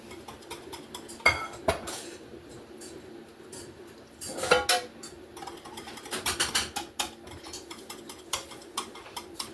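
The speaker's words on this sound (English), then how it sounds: "So I'm gonna go ahead and just mix this in. Slowly incorporate it." A utensil stirs and scrapes through food in a dish while a broccoli stuffed bake is being mixed, giving irregular clinks and knocks against the dish, close and moderately loud, with no talking.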